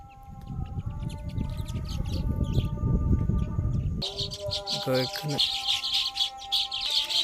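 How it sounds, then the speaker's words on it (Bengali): A flock of birds chirps busily by the Padma River at Shilaidaha ghat, with many overlapping tweets. Low rumbling fills the first half, then the chatter grows brighter and denser. "এক ঝাঁক পাখিগুলো অনেক সুন্দর দেখ লাগছে"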